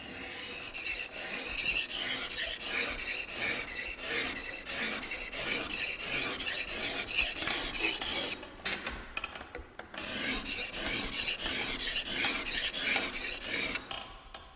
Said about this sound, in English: So I'm just going to hone here, and as I lift up, you can hear a slight change in sound.